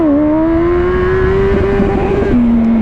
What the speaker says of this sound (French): quand on met un peu trop de frein arrière, l'arrière se bloque assez vite